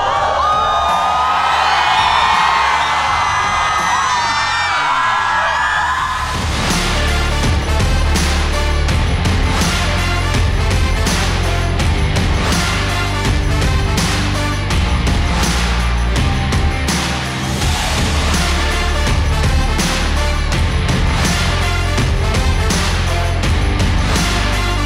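A large festival crowd at the Shillong Cherry Blossom event at the Polo Grounds screams and cheers, first in scattered whoops, then surging into a loud, sustained roar that continues throughout.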